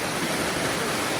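Strong water current rushes through a flooded beaver dam, a steady, dense broadband roar with no pauses, close and continuous.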